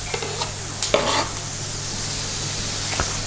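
Meat and butter sizzle in a pan, a steady close frying hiss broken by a few scraping stirs, with no talk.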